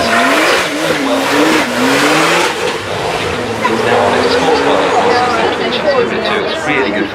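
A Mercedes-AMG SLS convertible GT car runs its engine at a motoring festival, a loud, close, rising and falling growl with revving, while someone speaks over it.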